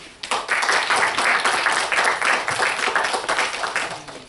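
An audience at a conference event in Côte d'Ivoire bursts into applause, clapping starting abruptly and holding dense and steady for about four seconds, fairly close.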